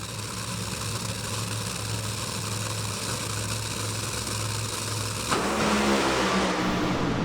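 Two NHRA top fuel dragsters roar together down the strip in a dense, sustained engine blast, with a sharp shift in the roar near the end as they pass.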